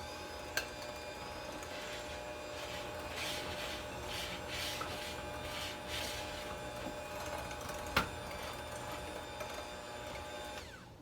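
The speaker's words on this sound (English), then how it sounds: "I'm going to mix this in at the lowest setting." An electric mixer on its lowest setting works flour into oatmeal raisin cookie dough, a steady faint motor whir with soft rhythmic rubbing and a couple of small knocks against the bowl.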